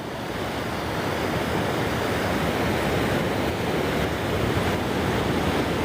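Ocean surf on Mission Beach, San Diego, washes in a loud, continuous roar of breaking waves mixed with wind buffeting the microphone, steady throughout with no voices.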